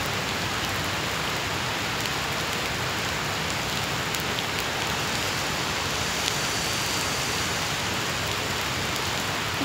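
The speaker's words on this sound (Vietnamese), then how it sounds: "Trời còn mưa, mưa nhỏ giọt." Steady light rain falling and dripping on surfaces at a zoo in Vietnam, a continuous even patter with no voices, filling the whole stretch.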